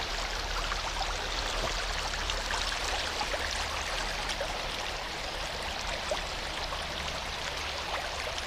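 A stream running high after a rise in water level rushes in a dense, continuous wash of moving water, close by and steady throughout, with no voices.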